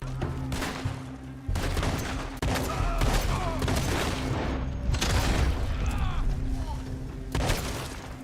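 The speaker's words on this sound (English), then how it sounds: "Shotgun time." Shotgun fire in the video game Red Dead Redemption 2: several sharp, loud blasts spaced a second or two apart, mixed with other battle noise, with voices talking over the gunfire.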